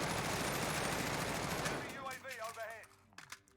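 An M4A1 with no attachments fires in a video game, a dense continuous automatic burst for nearly two seconds, then it stops and someone talks over faint game sounds.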